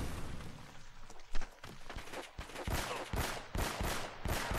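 Gunshots from a firefight in the video game Uncharted: Drake's Fortune, a rapid series of sharp cracks that grows denser and louder toward the end. One heavier blast stands out early, and no voices are heard.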